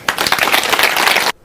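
Audience applause and clapping at the close of a TEDx talk, a dense burst of many hands that runs loud and steady for just over a second and then cuts off abruptly.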